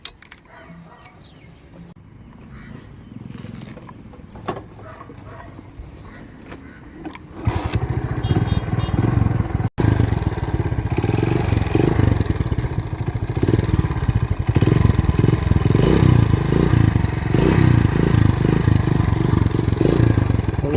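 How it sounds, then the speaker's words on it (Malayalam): A vintage motorcycle with its stock, unmodified silencer starts up partway through and keeps running, a steady loud engine note that swamps the quieter background from then on. "സൈലൻസർ മാറ്റിയിട്ടില്ല, ഞാൻ അതിൻ്റെ സൗണ്ട് കേൾപ്പിച്ചു തരാം."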